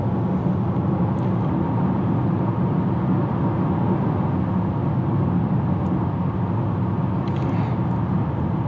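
Steady cabin drone and road rumble from a Chevy Blazer RS cruising in all-wheel drive, a low, constant engine and tyre hum with no change in pace.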